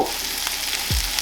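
Garlic cloves and a little onion frying in a pan, a loud, close, continuous crackling sizzle over one brief moment.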